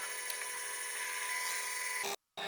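A Forstner bit drilling holes of 15 to 35 mm through scrap wood, a steady high whining grind that runs evenly for about two seconds, then cuts off abruptly.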